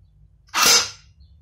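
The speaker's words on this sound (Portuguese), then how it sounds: "Eu vou dar um tiro com ela aqui seco, sem munição nenhuma, só pra vocês verem. Ela tá no modo single, ó." A CYMA Desert Eagle airsoft pistol dry-fired in single mode with no ammunition gives one sharp mechanical snap, close and fairly loud, fading within half a second over a quiet background.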